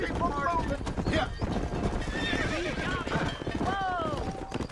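A horse whinnies repeatedly over steady clip-clopping hooves in the Western video game Red Dead Redemption, with a player talking throughout.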